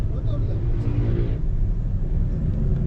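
Motorcycle engine rumbling steadily during a ride, a continuous low drone close to the microphone with wind and road noise, while people talk briefly over it near the start.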